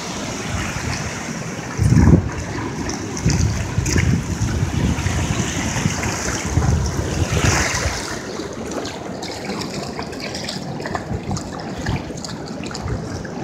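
Pacific Ocean waves washing onto the shore, a close, continuous rushing surf with swelling surges and a brief louder crash.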